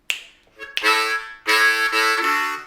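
Loud harmonica draw chords on holes 1, 2 and 3 chug in short repeated bursts, close and strong, with brief breaks between the blasts.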